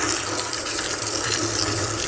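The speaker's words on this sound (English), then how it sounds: "rinse down the inside of the mixer while it's still spinning" A high-pressure hose sprays water into the drum of a spinning mortar mixer, giving a loud, steady rush of water that runs unbroken from start to finish.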